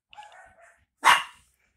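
A dog in a Squid Game-themed episode gives a single sharp bark after a few soft whining or yipping sounds, close and clear against silence.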